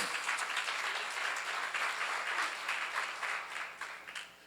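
Congregation clapping during a church seminar, a dense, steady round of applause that tapers off near the end.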